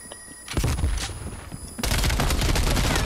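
Rapid bursts of MP5 submachine gun fire in Call of Duty: Black Ops Cold War, a short burst then a heavier sustained volley of close, loud shots.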